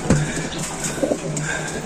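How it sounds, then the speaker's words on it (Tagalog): A racing pigeon, a possible lap winner from a provincial race in Albay, gives a few soft, low coos close by against light background noise. "Yan ang ating ibon."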